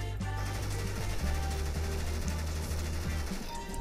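Rapid bursts of gunfire in the video game CS:GO, in an arms race match, loud and continuous with repeated shots over a steady low engine-like drone.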